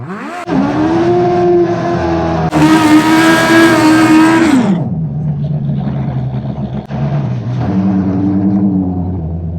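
A modified Smart car with a welded differential revs hard and skids on a winter surface, its loud, close engine note rising, holding high, then dropping and climbing again.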